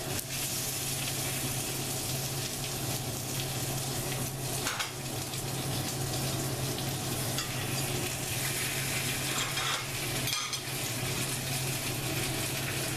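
A New York strip steak sizzles in a cast iron skillet with a dense, continuous hiss that holds at a steady level throughout and has only faint clicks within it and no voices.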